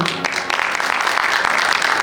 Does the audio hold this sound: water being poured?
no